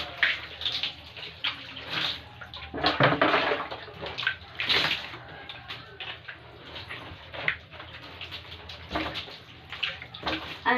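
Water splashes and sloshes in irregular bursts as someone takes a bath, close and continuous, with faint background sounds and occasional voice.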